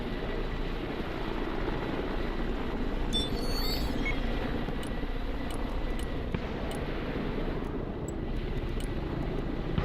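A rescue helicopter in the war game Broken Arrow drones with a continuous rotor and engine rumble at moderate distance, steady throughout with a few faint clicks and blips layered over it.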